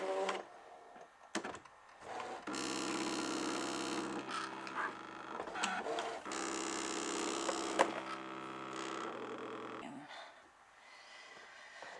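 A Brother ScanNCut SDX cutting machine with its standard auto blade cutting paper, a steady motorized hum and whir with several stop-start passes and short pauses, close and alone.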